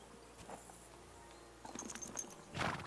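Horse hooves clip-clop faintly in the medieval game Kingdom Come: Deliverance 2, with a few soft, scattered steps and a brighter burst of noise near the end, all fairly quiet and distant.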